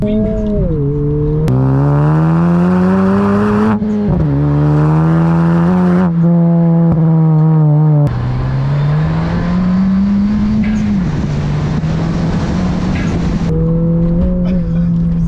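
A 2020 Honda Civic Si engine revs up loudly and close in repeated pulls, with pitch climbing then dropping at each gear change, while a voice talks over it.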